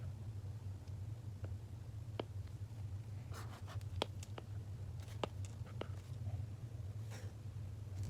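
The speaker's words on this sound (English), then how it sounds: "note down everything I learned on the same day so that I don't forget any detail" Pen writing notes in a paper planner, faint scratchy strokes and small taps scattered over a low steady background hum, close and quiet with no talking.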